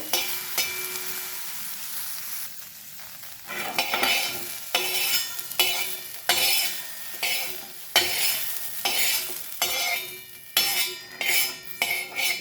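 Okra (ladies finger) dry roasting in a pan, a close, loud run of rhythmic scraping and stirring strokes from a utensil against the metal over a faint sizzle, repeating for several seconds with no speech.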